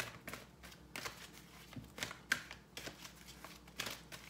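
Angel oracle cards shuffled by hand in a run of quick, crisp riffling bursts, close up and fairly quiet, with no talking.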